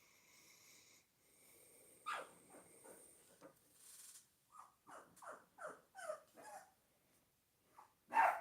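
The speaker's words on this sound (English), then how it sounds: "Dogs are barking." Several dogs barking in a quick run of sharp yelps and barks, fairly close, with a louder bark at the end and a faint hum before.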